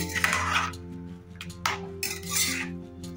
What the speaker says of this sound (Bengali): নুনটা দিয়ে মিশিয়ে দিচ্ছি।